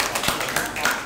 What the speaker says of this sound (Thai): ปรบมือให้กลุ่มแรกนะครับ